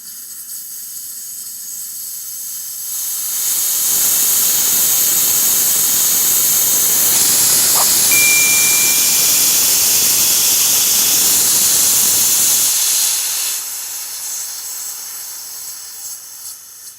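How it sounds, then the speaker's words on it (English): Steady, loud rush of blown air streaming over a ball in an airflow demonstration, rising in after a few seconds, holding for about ten seconds as a broad hiss, then cutting back to a quiet background. "It's just merely the airflow over the ball is causing a low pressure area and causing it to move in that direction."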